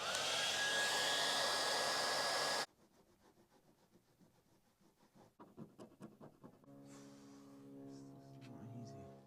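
A hair dryer blows loud and steady on adhesive residue left on a Porsche Cayenne Turbo's number plate area, then cuts off. Rhythmic scrubbing scrapes and heavy breathing follow.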